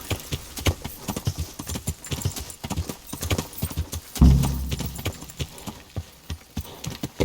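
Horse hooves clip-clop in a steady galloping rhythm in a video game, close and continuous, with a brief low thud partway through.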